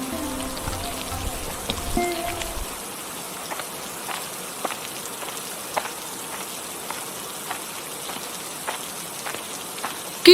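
Steady cartoon rain patters and hisses for about ten seconds, with scattered droplet taps on surfaces; a low rumbling layer drops away early on, leaving only the rain.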